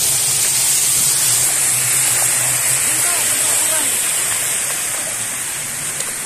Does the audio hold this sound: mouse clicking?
no